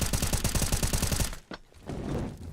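Rapid automatic gunfire fired through walls in a competitive first-person shooter match, a dense burst of shots for over a second, then a sharp single crack and lingering reverberant noise.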